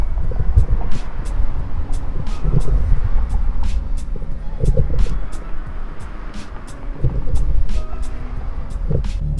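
A car filmed through a GoPro Hero 5 fitted with an external microphone, heard as a continuous low rumble with sharp, regular ticking pops running through the whole stretch at steady loudness.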